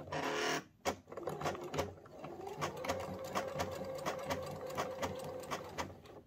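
A sewing machine runs a triple straight stitch, its needle chattering in a fast, even patter with brief pauses between bursts, close and fairly quiet with a soft motor hum beneath.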